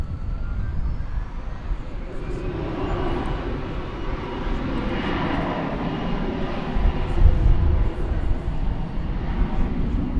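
Envoy regional airliner departing DFW Airport, its jet engines a steady, broad distant roar that swells slightly toward the end, heard outdoors at a plane-spotting spot with no voices.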